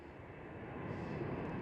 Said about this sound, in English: there is the Airbus A300 of DHL